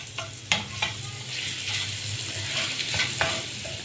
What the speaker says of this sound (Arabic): وهننزل على السمنه والزيت كده اهو. وهنقلب بقى